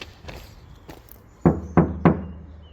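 Knuckles rap on the front wing panel of a Tesla Model 3, giving three loud hollow knocks close by, like striking an oil drum, after a few fainter taps on the body.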